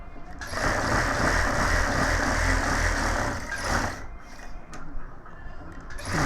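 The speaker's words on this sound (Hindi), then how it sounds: "अब हम डबल सिलाई इस पे करेंगे।" A sewing machine runs a double seam on a gents suit, its motor whirring continuously for several seconds, then slowing into shorter bursts and clicks.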